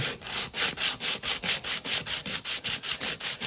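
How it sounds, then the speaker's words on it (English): An acoustic guitar saddle is sanded against sandpaper in quick, even back-and-forth strokes, a steady rhythmic rasping of about four strokes per second, close and alone. "And just start to sand that off."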